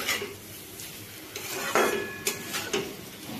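Marinated paneer cooking in a pan over low to medium heat, with soft sizzling under clinks and scrapes of a utensil against the pan, several sharper knocks standing out.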